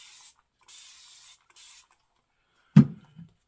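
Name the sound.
spray bottle spraying water onto shaving soap lather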